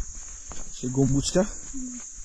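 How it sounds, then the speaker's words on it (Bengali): A shrill, unbroken cricket chirr runs through the whole moment while a voice speaks briefly over it, on the mountain road from Manebhanjan to Tumling. "ঝিঝি পোকার ডাক পাচ্ছ?"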